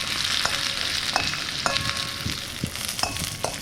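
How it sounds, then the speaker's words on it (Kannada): Capsicum frying in hot oil for a mushroom pepper dry: a steady close sizzle with occasional light stirring clinks and scrapes throughout, no voices. "ಒಂದು ಕ್ಯಾಪ್ಸಿಕಮ್ ಹಾಕ್ಕೊಂಡು ಒಂದು 3 ರಿಂದ 4 ನಿಮಿಷ ಎಣ್ಣೆಲಿ ಫ್ರೈ ಮಾಡ್ಕೊಳ್ಳೋಣ"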